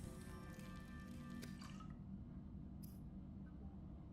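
A Subnautica fabricator makes water in the video game, giving soft liquid squishes and drips that are faint and fairly steady, with a brief bright burst near the end and no talking.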